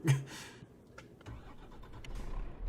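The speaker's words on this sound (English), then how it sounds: "The engine sounds pretty shit though." A truck engine cranks and catches in Euro Truck Simulator 2, a short starter burst followed by a low, rising rumble that settles into a steady idle.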